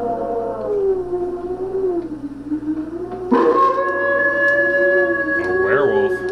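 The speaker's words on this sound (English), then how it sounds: "A werewolf." Werewolf howl sound effect from a 1997 K-tel Halloween CD: a sustained, wavering tonal howl that swells and bends in pitch, then turns harsher and louder partway through, playing alone without talk.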